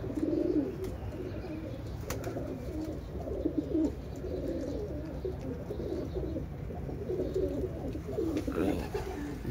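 Pigeons coo at a pigeon club, repeated soft low cooing phrases in a steady rhythm, close by, with faint background noise.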